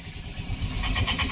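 A vehicle engine rumbles low and nearby as it pulls away, its throaty drone swelling slightly over a second or so, with no talk on top.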